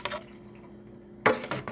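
Excess water is poured off from a potted Royal Hustler ivy (Hedera helix) after watering, heard as a few light drips followed by a brief, close splash.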